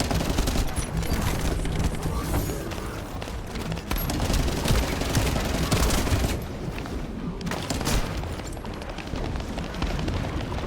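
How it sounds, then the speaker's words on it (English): Gunfire shooting at enemies in The First Descendant video game, a dense, continuous barrage of shots and blasts, loud and unbroken throughout. "We'll just shoot the enemies."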